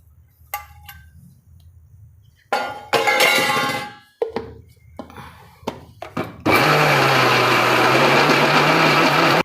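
A blender crushes pineapple for homemade jam. After a few clinks and thunks it roars into a loud, steady whir that runs without a break to the end.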